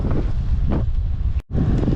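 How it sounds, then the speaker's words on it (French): Strong wind buffets a microphone while cycling, a loud, continuous roaring rumble with gusty swells and one brief dropout, and no speech. "J'espère qu'on m'entend bien quand même, même avec le vent."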